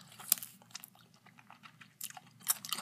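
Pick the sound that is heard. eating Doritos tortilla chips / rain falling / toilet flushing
eating Doritos tortilla chips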